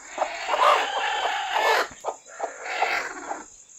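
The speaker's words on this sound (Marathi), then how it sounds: "पाहू शकता आता ही कोंबडी कशी बसते अंड्यावर" A hen settling onto her eggs clucks and murmurs in short, close bursts, forming two clustered runs of soft chatter with a thin high whine running beneath.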